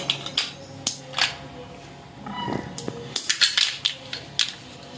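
Sharp crackling snaps and crunches of brittle caramel for malai kulfi being broken apart, irregular bursts close by, with no speech.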